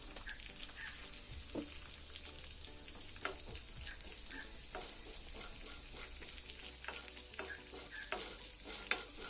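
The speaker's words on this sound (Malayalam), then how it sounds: "നമുക്കിതിലേക്ക് അല്പം കറിവേപ്പിൽ കുറച്ച് വെളിച്ചെണ്ണം ചേർത്ത് ഒന്നുകൂടി ഇളക്കി കൊടുക്കാം" Crab curry masala in a pan is stirred steadily while it sizzles in coconut oil with curry leaves, a busy crackling under soft scraping strokes of a spoon; close up, fairly quiet, no talking.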